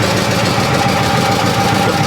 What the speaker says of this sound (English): A bit of an exhaust leak I can hear probably up on the top.